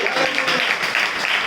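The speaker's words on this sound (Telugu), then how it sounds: "గట్టిగా చప్పట్లు కొట్టండి" A church congregation claps loudly and steadily at a New Year service, a dense wash of applause filling the space without pause.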